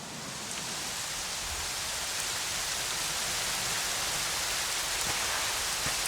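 Steady rain falls in a Dragon Quest XI scene, a dense, even hiss of downpour that holds constant throughout with no voices.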